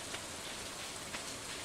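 Steady rain falls in the farming game Stardew Valley, a soft even hiss of drops on surfaces with faint patter and no other sounds.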